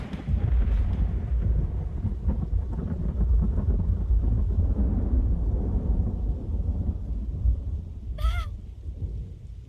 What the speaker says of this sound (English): Credit where credit is due, that is one awesome thunder sound.